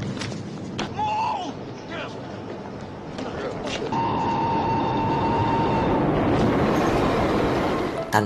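A train rumbles past in a scene from the film The Warriors, a heavy, swelling roar of wheels and carriages that grows louder toward the end, with a voice narrating over it.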